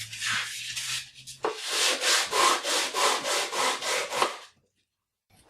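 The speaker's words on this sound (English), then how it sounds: "I use a piece of 1/2-inch glass with a piece of 220 sandpaper wrapped around it" Sandpaper of 220 grit, wrapped tight around a half-inch glass block, rubs over mandolin frets to level them, about ten steady rhythmic scraping strokes up close, then silence at the end.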